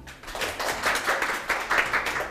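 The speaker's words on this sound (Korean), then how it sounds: "큰 박수로 모셔볼게요" A studio audience claps to welcome a lecturer onto a Korean lecture show, a fairly soft, continuous patter of many hands.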